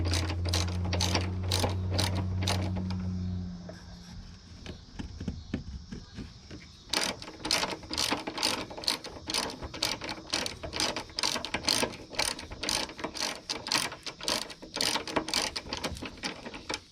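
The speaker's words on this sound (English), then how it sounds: "when you get there, you want to use your hands to tighten this down" Ratchet wrench clicking as it runs down a strut nut on a 2011 Chevy Traverse, starting after a low hum and then steady rapid ratcheting strokes, close and fairly quiet.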